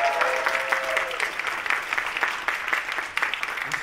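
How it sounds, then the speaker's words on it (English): An audience claps steadily and enthusiastically for a karaoke singer at OffKai Expo 2022, a dense, continuous round of applause that fills the hall. "one more round of applause for Tomoko."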